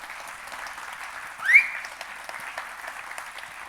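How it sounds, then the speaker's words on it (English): A symposium audience claps in a brief round of applause, soft and somewhat distant, with one sharp whistle or cheer cutting through in the middle. "its senior producer, Joe Verrett, who I think deserves a big round of applause."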